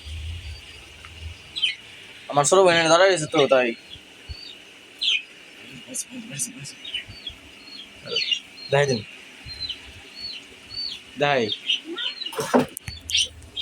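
Pet birds chirp in short, high tweets scattered through the clip, some close and clear and others faint, mixed in with and between bursts of a person talking.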